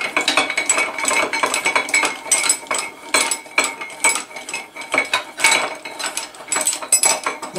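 A ratchet works loose the bolts on a 1964 Evinrude 40hp outboard during a teardown, giving repeated bursts of quick metallic clicking in an uneven rhythm, loud and close with no talking.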